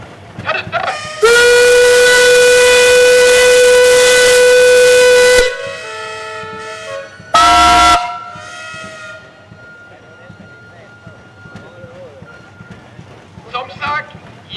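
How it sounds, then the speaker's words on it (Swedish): Self-propelled steam traction engines at a countryside show sound their whistles together, a loud sustained chorus of tones for several seconds, then a second short blast, with crowd murmur and talk around. "genom att göra en gemensam vissling."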